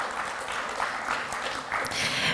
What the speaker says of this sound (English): Please, let's give another big round of applause,